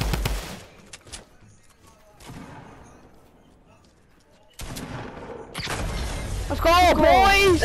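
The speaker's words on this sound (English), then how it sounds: "Shooting him down." Video game gunfire cracks out in a few sharp shots as an opponent is shot down in a squad match's final circle, followed by rising, excited shouting from players.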